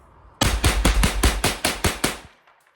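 A 22LR survival rifle firing cheap ammo lets off eight loud, close shots in quick, slightly uneven succession, each a sharp crack, before the sound trails into quiet.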